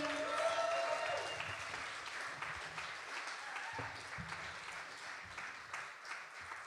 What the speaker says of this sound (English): Huge round of applause for Daisy, please.